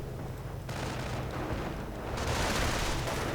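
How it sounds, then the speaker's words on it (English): An anti-tank gun fires at a Tiger tank in a video game battle, heavy booms layered over a dense, continuous rumble of gunfire that grows louder toward the end. "Anti-tank gun firing away with glee at the Tiger"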